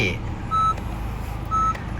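Warning beeps from a 2020 Honda HR-V 1.8 EL with a smart keyless remote whose battery is low: two thin electronic tones about a second apart, heard over a steady engine idle.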